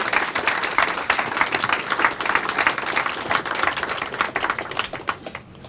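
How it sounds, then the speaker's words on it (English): A jazz club audience at Birdland gives dense, sustained applause for a quintet, steady and fairly loud throughout with no talking. "Let's give them a big round of applause."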